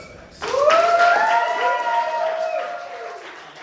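An audience at The Unusual Suspects live show applauds and cheers, with rising whoops over steady clapping that starts abruptly, stays loud for several seconds, then slowly eases off.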